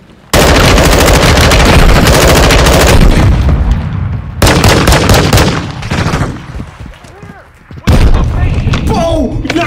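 Heavy gunfire fills a Modern Warfare 2 campaign battle, with loud, dense bursts of automatic weapons and booms in three waves, while voices shout over the combat.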